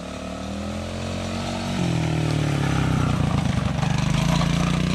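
Small Sunl SLA 90cc Chinese four-wheeler ridden through the woods by a young kid, its engine buzzing steadily, then revving higher and rising in pitch as it accelerates, loud and close throughout.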